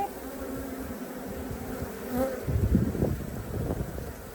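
Africanized honey bees swarm around a queen cage during a removal from a water meter box, with a steady, close, dense buzzing that swells a little louder toward the end and no voices.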